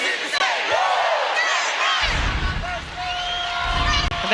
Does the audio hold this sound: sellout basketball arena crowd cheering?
yes